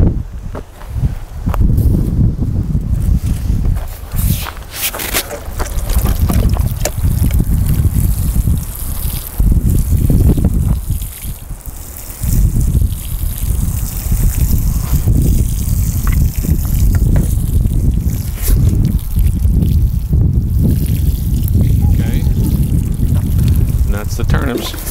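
Water poured onto a freshly planted vegetable bed of turnips and onions, a loud continuous rushing splash with wind buffeting the microphone outdoors, varying in intensity with brief pauses.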